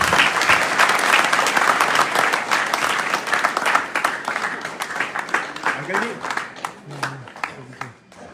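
Crowd applause at a Hindi-language political rally in Khetri, loud rapid clapping at first that thins into scattered claps, with a voice speaking over the fading end.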